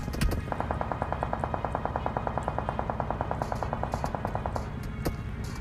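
Automatic gunfire in the PUBG Mobile video game rattles in a rapid, steady burst of many evenly spaced shots lasting several seconds, followed by a few isolated sharper shots, with no talk.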